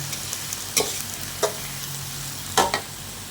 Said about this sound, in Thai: เราก็ใส่เต้าหู้ลงไปเลย เราก็ขุนให้เข้ากันนะคะ